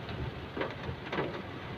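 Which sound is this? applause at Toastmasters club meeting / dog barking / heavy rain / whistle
heavy rain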